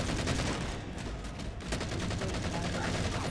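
Rapid, loud gunfire in the video game Halo, a dense barrage of overlapping shots filling the whole stretch with little pause.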